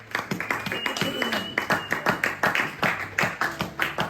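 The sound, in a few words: church congregation applauding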